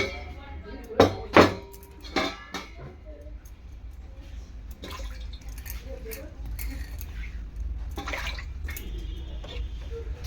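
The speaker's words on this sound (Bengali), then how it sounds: "শিলটা ভালো করে ধুয়ে নেবো, শিল নোড়াটা" Water splashes and scrapes as a stone grinding slab and its pestle are rinsed in a kitchen. A few sharp knocks of stone come early, followed by softer intermittent splashing at close range.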